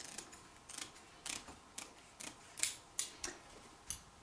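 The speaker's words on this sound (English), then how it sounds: "So I am going to cut it a hand away on this edge and just follow one of their lines." Scissors snipping through an old blanket at close range, a series of about ten crisp, regular cuts spaced roughly every half second with quiet pauses between.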